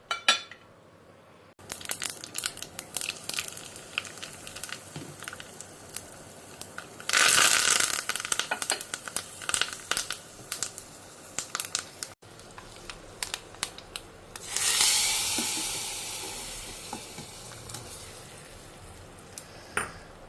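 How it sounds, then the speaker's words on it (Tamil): Mustard seeds and cumin sputter and pop in melted ghee for Karnataka-style thili saaru rasam, a scattered crackle of sharp pings that swells in two louder frying bursts, with no talk. "இதில் ஜஸ்ட்டு கடுகு ஜீரகம் பொரியட்டும்"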